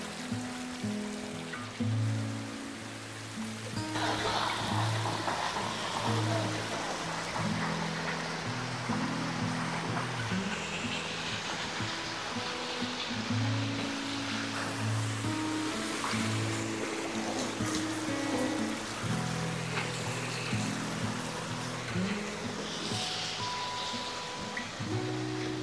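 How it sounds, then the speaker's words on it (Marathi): A shallow stream with very little water flows in an outdoor nature spot, giving a steady, close wash of broadband rushing and trickling that runs throughout without talk. "पाण्याचा आवाज खूप छान येतोय."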